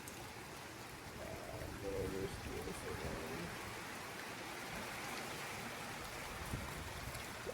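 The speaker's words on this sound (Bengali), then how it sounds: "বাইরে কিন্তু প্রচুর বৃষ্টি নেমে গেছে।" Heavy rain falls steadily outside an open spot by a home, a dense, even hiss that fills the whole stretch at low level, with faint indistinct voices in the background.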